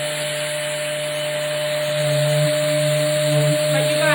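An electric sander runs steadily on a wood project with a shop vac hose attached drawing off the dust, a loud continuous droning whir with a steady hum that swells slightly in its later seconds, no voices.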